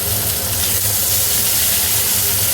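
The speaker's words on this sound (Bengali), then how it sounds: "পেঁয়াজটাকে একটু ভেজে নেব" Chopped onions with cumin seeds fry in a little oil for a Bengali pomfret fish curry, giving a steady, loud, continuous sizzling hiss throughout with no voices.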